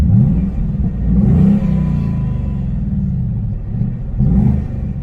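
2019 Ford Mustang Bullitt with its V8 and six-speed manual, engine droning and surging under acceleration from inside the car, a deep burbling rumble that swells twice, alone without talk.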